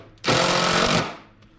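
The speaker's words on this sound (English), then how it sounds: "I'm not very good with the Phillips ones on the old impact driver." An impact driver drives a Phillips screw into wood on a shaving horse build, giving one loud, close, rattling hammering burst of just under a second that then fades out.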